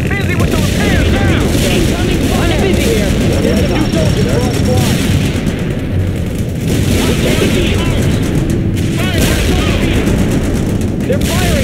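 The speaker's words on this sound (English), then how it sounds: "They're firing at us." Video game battle gunfire crackles and booms in a dense, continuous barrage, loud and close, with a voice talking over the shooting throughout.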